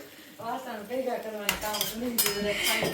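Metal utensils are emptied and handled in a home kitchen, with close clanks and clinks of pots and spoons striking each other. A soft voice comes first, and then the sharp metallic clatter follows in bursts.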